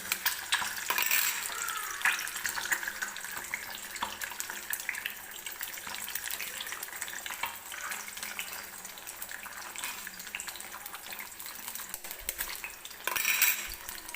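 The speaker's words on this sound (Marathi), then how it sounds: "अलगद अशी ही अंडी आपल्याला याच्यामध्ये फोडून घ्यायची आहे तेलामध्ये" Four eggs cracked into hot oil in a pan for a Maharashtrian egg curry, sizzling and frying steadily throughout with scraping and clinking of utensils, close and fairly loud.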